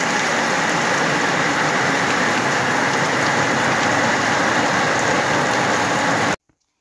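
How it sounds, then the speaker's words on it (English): Steady, dense afternoon rain falls on a camp as a loud continuous hiss for several seconds, then cuts off abruptly into silence. "Having some lovely afternoon rain again."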